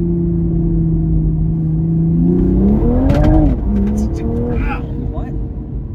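Toyota Supra running E85 with an Armaspeed intake, downpipe and JB4 tune pulls hard after a downshift, its engine note climbing steadily in pitch with a brief shift-like break, loud and close throughout.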